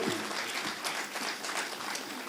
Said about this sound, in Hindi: एक बार पुनः जोरदार तालियां इस नौटंकी के लिए